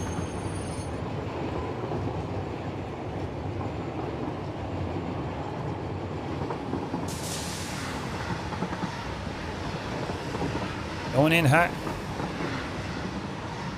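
A train runs in the video game Satisfactory, giving a steady rumbling rail roll with a brief squeal near the end while a person talks over it.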